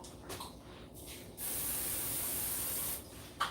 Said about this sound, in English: We're going to spray our pan first.